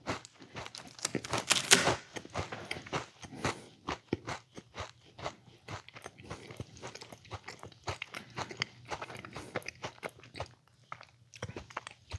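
Crunchy chocolate-covered Halloween candy, tasting like chocolate-coated Cinnamon Toast Crunch, being bitten and chewed up close: a loud sharp crunch early on, then repeated irregular crisp chewing crackles, with no talking.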